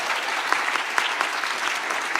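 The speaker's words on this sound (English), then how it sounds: "you can clap." Conference audience at the Cosmoverse Istanbul Cosmos ecosystem event clapping for a panel, a short burst of steady, fairly close applause with no voices over it.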